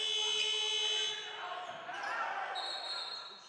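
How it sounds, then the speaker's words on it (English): A basketball shot clock buzzer sounds during a high school prep game, a steady electronic tone that holds for about a second and then fades under the gym noise, with a second tone coming in near the end. "So the shot clock buzzer went off"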